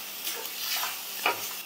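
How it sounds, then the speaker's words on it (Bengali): Marinated prawns being stir-fried with a ground paste of coconut and green chili, a soft continuous sizzle with faint stirring scrapes and one brief clink near the end. "নারকেল, কাঁচা লঙ্কা বাটা আর এই চিংড়ি মাছ, ম্যারিনেট করা চিংড়ি মাছ খুব ভালো করে আমি কষিয়ে নিচ্ছি"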